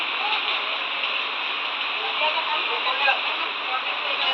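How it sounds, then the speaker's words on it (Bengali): Heavy rain pours down during a home puja, giving a steady, even roar of falling water that holds at a constant loud level from start to finish. "বৃষ্টির আওয়াজ তোমরা হয়তো বা শুনতে পাচ্ছ"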